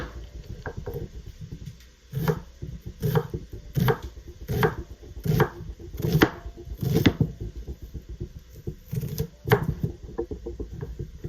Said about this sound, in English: we're going to take our onion, and we're going to chop that up as well